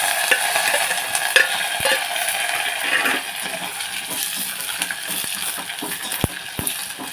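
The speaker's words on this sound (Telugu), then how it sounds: "మగ్గుతుంది ఉల్లిపాయ ఇందులో కొంచెం మనం కొంచెం మధ్యలో ఉప్పు వేసాను కొంచెం మత్తపడుతుంది ఉల్లిపాయ" Onions and green chillies fry in a pan, giving a steady close sizzle with scraping stirring strokes and occasional sharp metallic clinks of a utensil against the pan.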